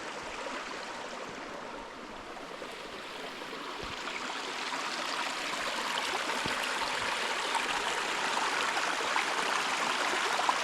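Steady rushing water of a stream tumbling over rocks, a broad continuous wash that swells slightly louder over time, with no voices.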